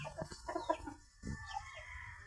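A healthy rooster on a backyard poultry farm clucks in a short burst of close, loud calls, then a pause and a few softer clucks against quiet background.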